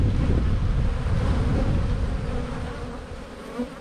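Honeybees swarm over a hive fitted with a top feeder, a dense continuous buzz close to the microphone with some wind rumble underneath and no speech.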